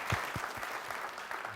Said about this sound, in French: Plus d'applaudissements pour Kayaoto.